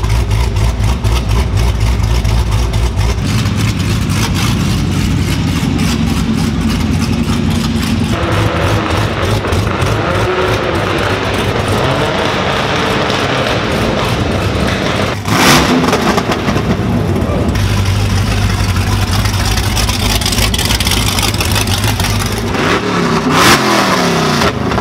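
A loud Chevrolet Camaro ZL1 sports car engine idles with a deep rumble and repeatedly revs up, roaring close by throughout without pause, on a street.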